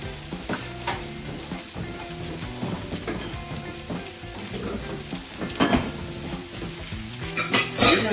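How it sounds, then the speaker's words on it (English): Peppers and onions sizzle steadily in butter in a hot pan, with occasional stirring scrapes and clinks of a utensil against the pan. "You're going to hear that saute pretty quickly."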